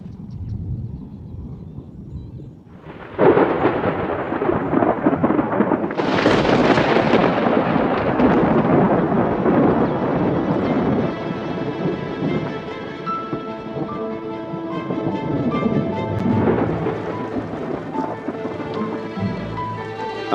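Thunder rumbles in a storm over the Limpopo River region, a heavy crash breaking in, and then a steady downpour of rain holds as the rumbling rolls on and slowly fades.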